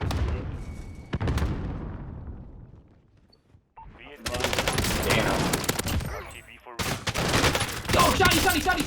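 Bullfrog SMG fire in Call of Duty Cold War gameplay: rapid bursts of submachine gun shots crackle loudly in several volleys, separated by a brief quiet gap, with other in-game gunfire mixed in.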